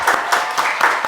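A live audience at a conversation show applauds in one short, loud burst of clapping.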